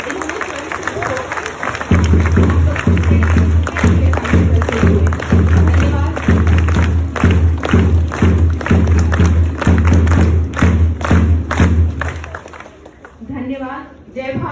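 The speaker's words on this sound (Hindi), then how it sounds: "तो फिर से एक बार जोरदार तालियां।" Audience applause fills the hall at a ceremony honouring teachers, a loud, sustained wash of clapping lasting about ten seconds over a steady low hum before it fades out.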